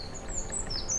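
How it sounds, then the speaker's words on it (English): High thin bird chirps sound in a forest, a few brief tweets over a soft, steady background hush. "When I went through forest, I heard bird sounds."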